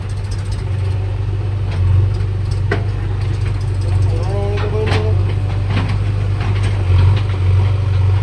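Massey 241 tractor engine running beside a JCB loader at a gravel loading site: a loud, steady diesel idle throb with occasional knocks and clanks, a voice talking over it.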